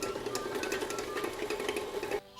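An electric mixer whirs steadily while creaming cold butter for chocolate chip cookie dough, a continuous close motor hum with faint rhythmic beating that cuts off abruptly near the end.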